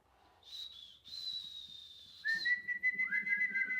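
A person whistles several long, steady tones with short breaks between them, used as a signal of disappointment, danger or a death. Other people can be heard speaking faintly under the later whistles.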